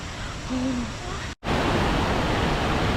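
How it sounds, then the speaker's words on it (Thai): A waterfall on a Thai forest trail gives a steady, broadband rush of falling water, loud and unbroken apart from one brief dropout. "อุ้ยน้ำตก เย็นสบาย สดชื่นมาก"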